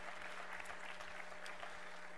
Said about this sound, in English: Somebody give a little clap offering of praise to the Lord.